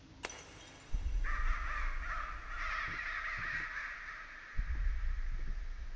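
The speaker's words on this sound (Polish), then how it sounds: "Jakieś kruki?" Ravens caw in the horror video game Layers of Fear, several harsh croaking calls ringing out over a low rumbling ambience, loud and near, with heavy thuds at intervals and no talking.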